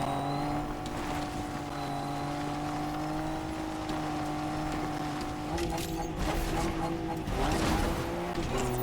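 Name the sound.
car engine and tire squeal in the video game Fortnite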